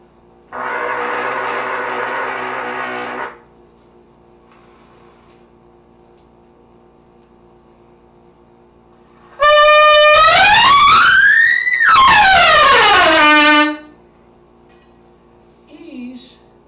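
Loud honking blasts played on a brass mouthpiece, first a steady buzzy tone, then after a pause two strong sustained honks whose pitch bends upward and back down, alone without talk.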